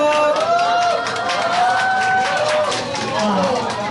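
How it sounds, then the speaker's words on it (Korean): An audience at a concert by a band of elementary school teachers applauds and cheers for the next band, dense and loud throughout, with shouted voices riding over the clapping. "박수 주세요!"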